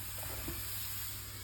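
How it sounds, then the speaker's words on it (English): Ice cubes go into a hot pot holding a scored wholegrain sourdough loaf, giving a brief hiss and sizzle of water on hot metal against a steady background hiss. "Get ice cubes in."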